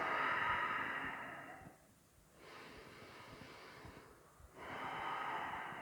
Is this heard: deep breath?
yes